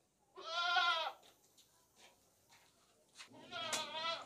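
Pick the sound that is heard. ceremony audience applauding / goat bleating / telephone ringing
goat bleating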